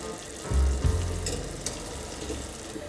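Starchy pasta cooking water poured into a hot pan of sauce, a brief burst of pouring and sizzle near the mic that settles into a softer bubbling hiss.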